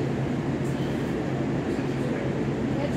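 A Metro Gold Line light rail train pulls away from a station, a steady low rumble and hum heard from inside the car, even in level with faint voices in the background.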